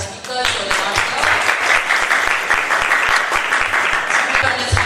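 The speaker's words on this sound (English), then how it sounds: "Round of applause for our speakers who are not here." A convention audience gives a loud, continuous round of applause for the speakers, a dense crowd of hands clapping close and steady across the whole stretch, with a voice briefly audible.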